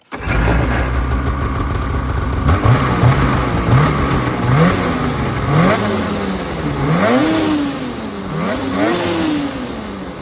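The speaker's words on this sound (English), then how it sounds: "see if we can get a clip of the stock exhaust" A Polaris Matryx 850 snowmobile on a stand with its stock exhaust starts up and revs in a series of sharp, rising and falling throttle blips over a loud idle, close and alone.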